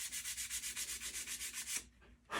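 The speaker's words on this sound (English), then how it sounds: "I could probably just scuff them with a piece of sandpaper" Sandpaper scuffs flat knife handle scales in quick, even back-and-forth strokes, about a dozen rhythmic rasps up close, then a brief pause and one last stroke.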